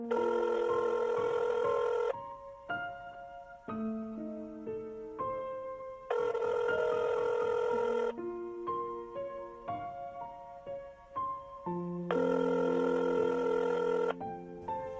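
A telephone rings in regular repeated bursts after a number is dialed, each ring loud and close with a clear electronic tone, separated by short gaps filled with shifting melodic tones.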